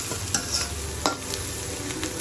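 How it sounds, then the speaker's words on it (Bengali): Onions frying in a pan with a steady, close sizzle, broken by a few sharp scrapes and clacks of stirring; no one speaks. "এখন আমি পেঁয়াজ ভাজতেছি"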